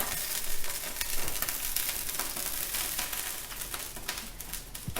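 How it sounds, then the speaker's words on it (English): Paneer sizzles and crackles steadily in a hot pan, a dense, continuous frying hiss with small pops, close and fairly loud, no talking. "Just going to make a bit of a sizzle"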